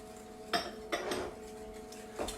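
A utensil tapping and scraping against a bowl while mixing brownie batter, a few faint, sparse clinks over a quiet background.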